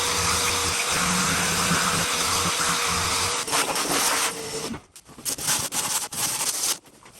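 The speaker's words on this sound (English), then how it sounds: "So let's get this all sanded up first." Power sander working over a workshop wall panel before fiberglass goes on, a loud continuous rough whir for several seconds that breaks up into short stop-start bursts near the end.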